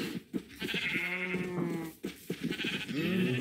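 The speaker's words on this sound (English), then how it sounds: "Come here, sheep." Sheep in the Minecraft video game bleat repeatedly, wavering calls that overlap one another and sound fairly close, with no talking.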